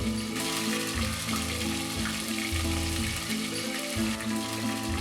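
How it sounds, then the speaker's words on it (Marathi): Red chilli masala sizzles and fries steadily in a pan for an egg masala, a dense, continuous close hiss with a low rumbling undertone throughout. "2 चमचे लाल तिखट यात घाला आणि हा मसाला पुन्हा चांगला परतून घ्या"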